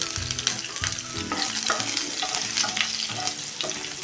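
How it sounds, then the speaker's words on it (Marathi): Green chilli pieces sauté over a medium flame in a pan, with a steady close sizzle and repeated stirring scrapes of a spoon against the metal. "हे आता मिनिटभर परतून घेऊया जास्ती फ्लेम आपण ही मिडियम ठेवलेली आहे"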